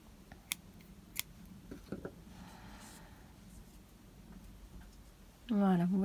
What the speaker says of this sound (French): Je peux rajouter une maille en l'air et couper mon fil.